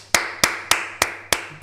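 A single person's hands clap five times at close range, sharp and evenly spaced about a third of a second apart, with no talk.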